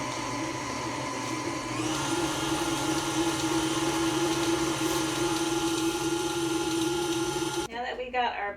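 An electric stand mixer beats Swiss roll cake batter with a steady whirring drone that picks up speed partway through, then cuts off abruptly near the end.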